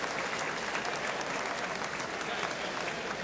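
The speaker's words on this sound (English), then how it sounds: "Big cheer now." A darts crowd at Waterloo 1983 cheers and applauds player Ian Rigby during a semi-final, a thick, even roar of clapping heard throughout, with a commentator talking over it.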